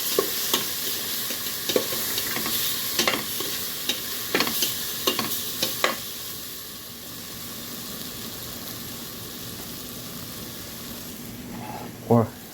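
Curry powder is stirred into a frying masala for a macaroni chicken dish, with a continuous close sizzle and a series of spoon scrapes early on, easing to a quieter hiss with one last scrape near the end.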